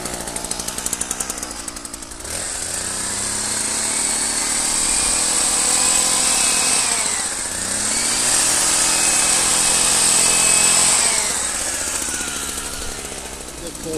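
A hedge trimmer runs loud and steady for about twelve seconds, cutting along the full length of its bar as it trims a hedge, with a brief dip in pitch partway through.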